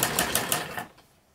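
A sewing machine stitches the lining of palazzo trousers, running in a fast, even mechanical whir with regular pulses for about a second before stopping, close and alone without talk.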